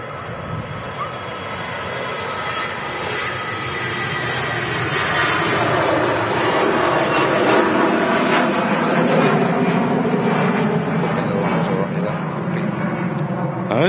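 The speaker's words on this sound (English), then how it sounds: "But now on the roll is the A321." Airbus A321 jet on its takeoff roll at Manchester Airport: a steady, broad engine roar that swells over the first seconds and holds loud, with people talking over it.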